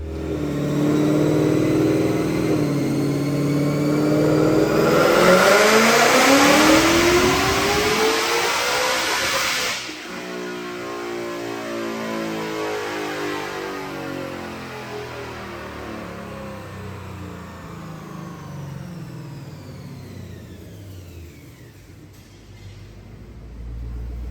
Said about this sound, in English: Check out this dyno pull.